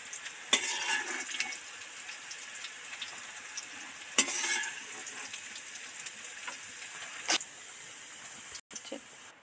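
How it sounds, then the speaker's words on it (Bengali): Oil sizzles and bubbles steadily as onions deep fry, with a few sharp pops and clinks of a utensil against the pan. "পেঁয়াজে তো নুন দিয়ে একটুখানি ডিপ ফ্রাই করে ভেজে নেব"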